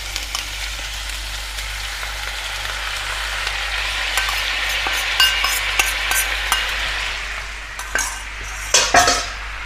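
Salmon caramelizes in a pan as a sauce is added, for a Korean meal. A steady close sizzle and fry runs throughout, with a few clinks of utensil against pan near the end and no talk.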